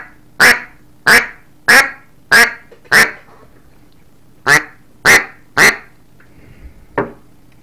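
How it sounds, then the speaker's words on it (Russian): A Tall Timber duck call blown by hand in a test gives sharp, loud quacks, five evenly spaced, a pause, then three more and a softer final note, close to the microphone with a faint hum behind. "У меня вот все равно в Duck Commander получается лучше крякать."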